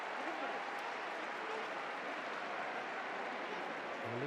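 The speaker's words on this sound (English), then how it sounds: "Relieved applause all around the stadium" A stadium crowd at a J1 League football match between Vissel Kobe and Nagoya Grampus gives a dense, steady wash of applause and crowd noise, with commentary talk running over it.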